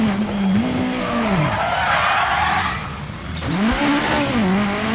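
Rally car in WRC 9 skidding under hard braking into a hairpin, a loud engine whine dropping in pitch as the tyres scrub, then revving back up near the end, with no voices.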